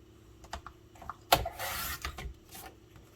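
Scissors snip small bits off scrapbook paper close by, a few short separate cuts plus one longer rustling snip, with pauses of quiet between them.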